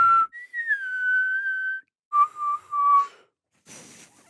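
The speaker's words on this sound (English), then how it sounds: "I think I'm only good at sucking in whistle." A person whistles with an inward, air-sucking technique, producing sustained wavering tones in two phrases separated by a short pause, close and clear with no talking over it, ending in a breathy hiss.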